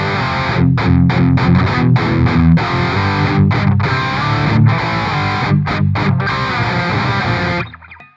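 A Gibson Les Paul Studio electric guitar played through heavy distortion, loud chugging chords and riffs with short rhythmic breaks between them, ending on a fading ringing note.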